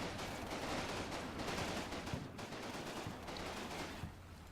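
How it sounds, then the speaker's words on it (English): Dense, continuous small-arms fire from the Combat Mission wargame's Market Garden battle, crackling shots layered over one another with a few sharper cracks standing out, steady and fairly loud throughout with no talk. "So, lots of shots going off towards the centre."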